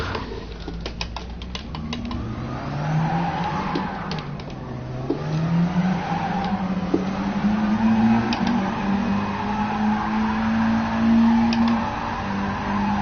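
A race car in Gran Turismo Sport running down a straight, its engine note climbing and holding steady with faint tyre noise and scrabbling, loud and continuous, no voices.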